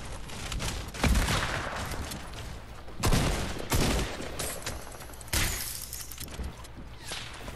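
Rapid bursts of gunfire in Fortnite, with loud volleys near 1, 3 and 5.5 seconds and scattered shots between, no talk.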